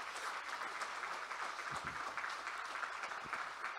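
Church congregation applauding during a worship service, a steady broadband clapping wash at moderate distance, sustained throughout with no voices on top.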